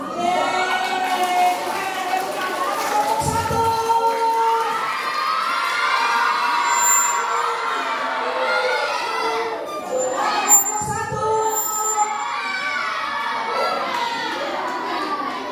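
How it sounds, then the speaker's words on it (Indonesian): A classroom of pre-teen children cheering and clapping for a group of classmates, a loud continuous crowd of young voices and applause with shouts rising throughout. "tepuk tangan buat temennya dong"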